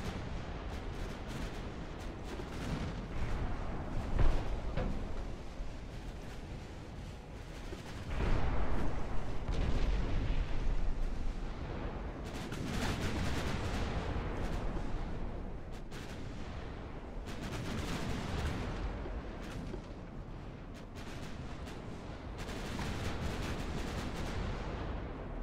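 Naval gunfire in the warship game Ultimate Admiral Dreadnoughts: a long, dense barrage of booming shots and rumbling blasts, some volleys clustered and overlapping, at moderate level with no voices.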